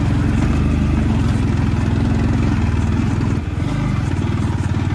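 A Yamaha MT-15 motorcycle engine runs loud and close while off-roading on a rough hill track, holding a steady throbbing note that dips briefly near the end.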